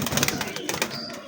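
A Sialkoti pigeon gives a brief, close, soft cooing call, with a voice talking over part of it.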